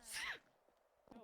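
A single short, sharp sneeze, high-pitched and close, followed by a faint breathy sound.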